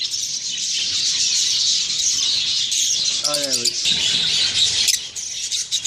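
Budgerigars in a breeding cage with a nesting pair, a dense continuous chatter of high chirps and warbles, close and loud, with a brief squawking call in the middle.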